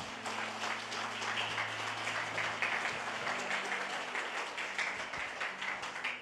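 Church congregation applauding during a Portuguese-language sermon, a steady wash of many hands clapping that stays even and fairly loud for several seconds, with a low hum underneath.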